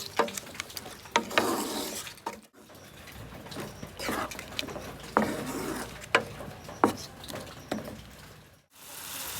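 Ginger and tomato stirred and fried in a pan for a Bengali rohu fish curry with potatoes, a quiet run of scraping and tapping utensil strokes over a soft, steady sizzle, with short brief gaps.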